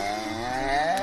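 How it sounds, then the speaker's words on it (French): A single cow moos in one drawn-out, rising, tonal call that lasts about a second, fairly close and with no one talking. "Vous avez déjà entendu le cri d'une vache?"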